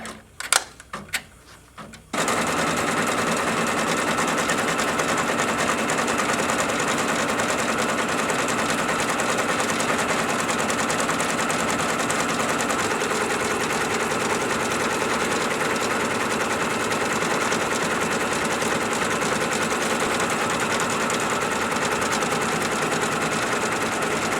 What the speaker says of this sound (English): I'm just going to do the embroidery